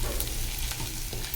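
Black urad dal frying in a pan, South Indian style, a dense continuous close sizzle with faint stirring scrapes, no voices.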